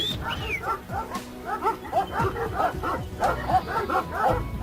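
Several Kangal dogs bark and yip repeatedly in quick, uneven bursts, fairly close, with some whimpering mixed in and faint voices underneath.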